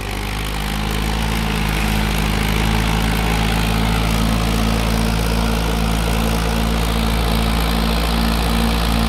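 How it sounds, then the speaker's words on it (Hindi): Mahindra 575 DI tractor hauling a heavily loaded trolley, its diesel engine running loud and close with a deep, steady throbbing drone and constant vibration throughout. "ट्रैक्टर"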